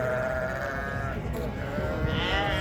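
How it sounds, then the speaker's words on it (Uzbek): Sheep bleat at a busy livestock market in Bishkek, with a drawn-out wavering call and a second higher bleat near the end over a constant low crowd murmur. "qo'ylar bor ekan, narigi tomonda echkilar ham turibdi"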